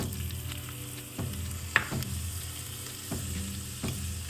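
Ginger fries in reused oil in a pan for gobi manchurian, a soft steady sizzle with a few scattered spatula scrapes and one sharp clink, close and without talk.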